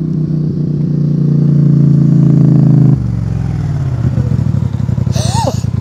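A 90 hp, 400 kg quad bike engine revving hard and accelerating, a loud close rising roar that drops abruptly as it shifts, then climbs again with rattling exhaust.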